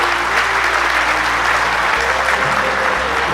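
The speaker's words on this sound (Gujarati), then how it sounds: "ભાઈ, તાળીઓના ગડગડાટથી એમને વધાવી લઈએ." Audience at a Gujarat State Principals' Association convention applauds to welcome a speaker: a dense, sustained burst of clapping from many hands, loud and close, with no voices.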